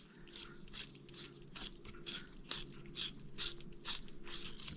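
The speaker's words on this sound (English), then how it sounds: "this one is brilliant because it allows me to sharpen my pencils" A pencil sharpener grinds a Prismacolor colored pencil in quick, uneven scraping bursts, faint and close, with soft crunching as the pencil turns.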